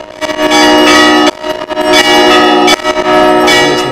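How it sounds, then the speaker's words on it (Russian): Church bells ring loudly and continuously during a bell-ringing flash mob, overlapping strikes with a rich, sustained metallic resonance and no voices. "Конечно, колокольный звон,"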